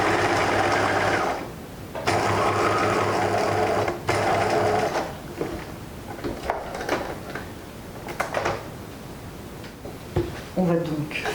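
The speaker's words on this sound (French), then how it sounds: "Attention de ne pas casser l'aiguille de la machine en passant sur les épingles." A sewing machine stitches a fabric barrier mask, its loud steady motor whir running in bursts for about five seconds, then giving way to quieter handling clatter and faint talk.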